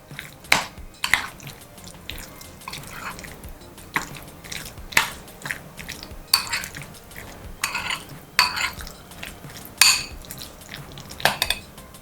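A mashed potato dish is stirred in a bowl after a spiced oil tempering is added, with a spoon clacking and scraping in irregular strokes, fairly close and with no voices.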